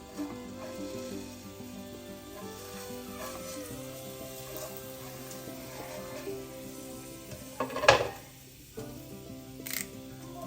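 Grated coconut and curry leaves frying in coconut oil give a steady, quiet sizzle, with a brief clatter of stirring near the middle.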